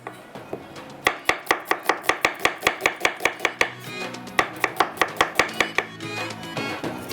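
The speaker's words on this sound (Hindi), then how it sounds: "यहाँ पर एक प्याज को हम कटिंग कर लेते हैं स्लाइस में।" An onion is sliced on a board for aloo kababs, a fast, regular run of crisp knife chops, close and loud, with a short pause partway through before the chopping resumes.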